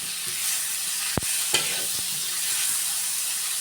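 Pork belly stir-frying in its own fat in a pan with little oil, a steady close sizzle and hiss throughout, broken by two or three sharp scraping strokes of the spatula against the pan.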